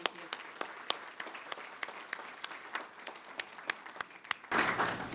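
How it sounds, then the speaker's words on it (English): Scattered hand claps from a small audience at a leadership awards luncheon, honoring a sponsor group, sparse and uneven before swelling into a denser burst of applause near the end. "a round of applause for that group as well."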